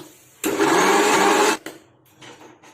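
A mixer grinder grinding onion chutney whirs loudly for about a second, a steady high-pitched motor roar that cuts off abruptly, followed by quieter rattling.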